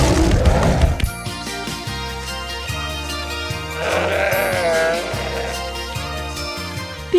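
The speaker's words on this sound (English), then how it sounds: "Bighorn sheep are large mammals that are relatives of goats." A bighorn sheep, a large wild relative of goats, gives a wavering bleat partway through, set against a light musical backing that runs under it.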